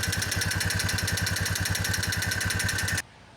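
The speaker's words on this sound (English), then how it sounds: "the noise is definitely coming from under that valve cover or the top part of the engine there" A running Ford engine with a fast, steady ticking from under the valve cover, a close mechanical clatter at an even idle that cuts off abruptly near the end.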